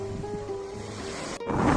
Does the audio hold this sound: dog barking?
no